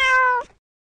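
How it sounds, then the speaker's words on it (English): A single clear cat meow, short and close, ending abruptly into silence. "Cat."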